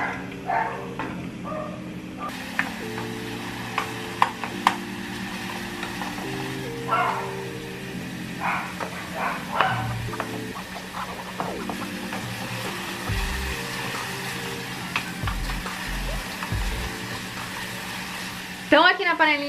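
Onion and garlic fry in lard in a small pot as rice is added, a steady sizzle with clinks and stirring scrapes running under someone talking throughout.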